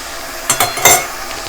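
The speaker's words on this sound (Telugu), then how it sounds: "ఇప్పుడు ఇది కదిలిస్తా." Fish curry cooked with mango pickle being stirred in a pot, giving a few quick scraping and clinking spoon strokes against the metal over a faint background sizzle.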